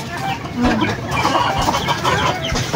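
White Kelso chickens cluck and chatter nearby at feeding time, with a person speaking over the flock's steady murmuring.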